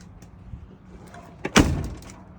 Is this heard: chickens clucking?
no